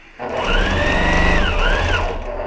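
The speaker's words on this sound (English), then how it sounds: "and sew our 1/4 inch" Electric sewing machine stitching a quarter-inch quilting seam, a steady whirring hum with a rising and falling motor pitch, loud and close, running continuously for about two seconds with no talk.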